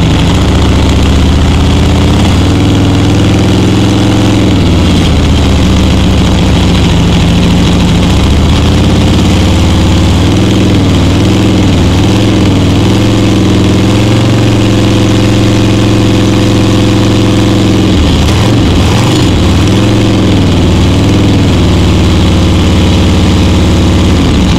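Harley-Davidson motorcycle engine that has blow-by, running steadily and loud at close range with a deep, throbbing idle and slight rises in revs, heard alone for the whole stretch.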